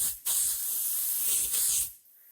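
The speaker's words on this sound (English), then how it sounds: "it's just a safety or a steam release" Steady loud steam hissing vents from an Empire B30 toy steam engine for about two seconds, broadband and continuous with a brief dip midway, then cuts off abruptly into quiet.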